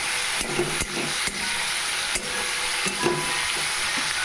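Spices with turmeric and salt are stirred in a frying pan for tomato chutney, giving a loud, continuous sizzle with repeated scraping strokes of a spoon across the pan.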